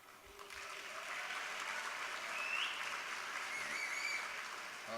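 An audience applauds during a city's State of the City speech, a sustained, moderately distant clapping lasting several seconds, with a few whistles rising above it.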